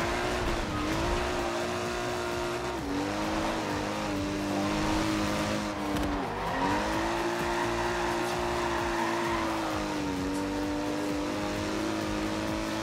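Mercedes saloon in the Forza Horizon 2 racing game, engine droning steadily with shifting revs while tires squeal in long sustained wails through a drift, continuous and loud with no talk.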